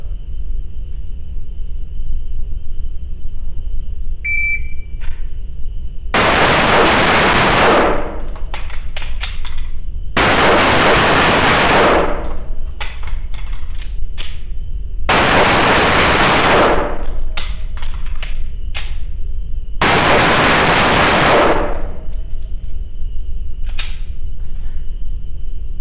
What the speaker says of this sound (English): I want to be able to get 5, 10, 15, 20 rounds off with mag changes in between each 5 rounds